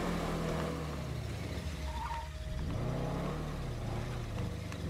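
Car engine in State of Decay 2, a steady droning hum that rises and falls as the vehicle is driven, held at a constant level throughout with no talking.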